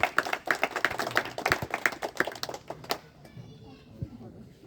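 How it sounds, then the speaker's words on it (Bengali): Scattered hand claps from a small group at a cricket league prize-giving ceremony, a quick run of sharp claps that thins out and stops after about three seconds, leaving quiet room noise. "হাততালি দাও হাততালি আছে"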